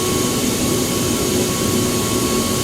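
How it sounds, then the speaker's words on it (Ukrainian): Aircraft engines run on an airport apron in the Airport Sim video game, a loud, steady jet roar with a constant whine that holds evenly throughout, with no talking. "працівники чують ось такий шум на пероні, коли літаки працюють. Працюють двигуни"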